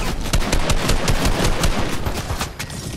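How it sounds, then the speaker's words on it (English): Rapid automatic gunfire in the video game Fortnite hammers out in loud, evenly spaced shots for several seconds, close and alone. "I'm getting shot by two people"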